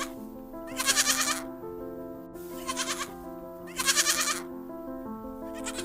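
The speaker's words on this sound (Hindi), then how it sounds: "एक थी छोटी सी बकरी।" A goat bleats loudly three times in a steady rhythm, each cry a strong, wavering bleat, over a sustained musical drone.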